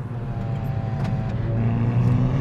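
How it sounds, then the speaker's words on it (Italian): A Hyundai i20N engine blips sharply as it rev-matches on a downshift, close and loud, a steady mechanical drone that jumps in pitch halfway through, with no talking. "eccolo qui il rev match"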